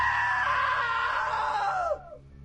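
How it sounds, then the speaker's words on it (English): A single long, loud human scream holds steady before trailing off and cutting to near silence at the end. "Now that was a great scream."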